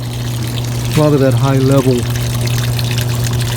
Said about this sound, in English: Pump kicked on.